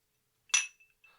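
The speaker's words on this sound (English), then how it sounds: "Those are some good clinks." Glasses clink together in one sharp, bright ringing strike that decays quickly, followed by a couple of faint smaller taps in otherwise silent surroundings.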